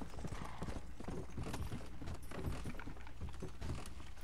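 Horse hooves clip-clop in the video game Red Dead Redemption: Undead Nightmare. The galloping hoofbeats come fast and rhythmic and close up over dense outdoor ambience at a fairly low overall level.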